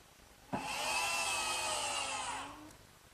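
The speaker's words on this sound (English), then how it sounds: "just fasten it with the screws" A power driver spins screws into hard oak to fasten a cabinet door hinge: one steady, close whirring burst of about two seconds that winds down at the end, with no talk.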